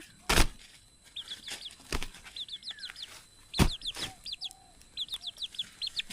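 A pet chicken perched on a person's shoulder gives repeated short clucks in small bursts, close by, with a few sharp wing flaps and rustles between them.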